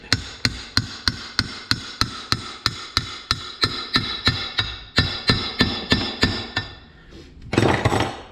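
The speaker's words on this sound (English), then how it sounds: "Let me see if I can tap that with a hammer." A hammer taps metal on a Honda TRX 450ER ATV engine in a steady rhythm, about twenty sharp ringing strikes, close by, then a brief scraping rattle at the end.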